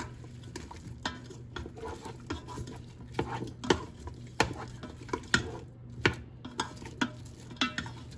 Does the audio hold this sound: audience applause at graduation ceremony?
no